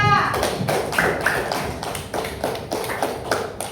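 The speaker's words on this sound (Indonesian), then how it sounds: "tepuk tangan dulu untuk kelompok 2" Classroom group applause for a team of students, a brief burst of many hands clapping in quick irregular rhythm, fairly close and lively, with a teacher's voice over the start.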